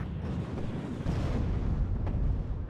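81mm mortar fire in the WARNO war game: a continuous rumbling, booming barrage with deep low-end thuds and a sharper crack near the end, loud and dense throughout with no voices.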